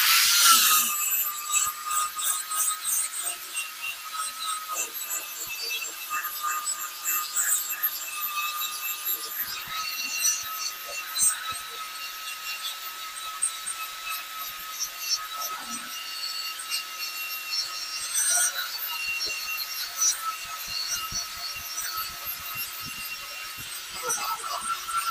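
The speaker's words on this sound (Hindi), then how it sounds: "हम आपको सिखाते हैं ग्राइंडर आपको कैसा चलाना चाहिए, ग्राइंडर हमेशा आपको किस तरीके से चलाना चाहिए" Angle grinder with a polishing pad working granite, a sustained high whine with a rasping, rubbing edge that runs steadily for the whole stretch and shifts slightly in pitch, while someone talks over it.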